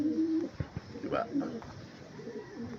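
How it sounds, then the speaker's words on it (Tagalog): A breeder's racing pigeon coos in soft, low, rolling calls at close range, partly under a man's speech. "Napakagandang ibon mga kabagwis."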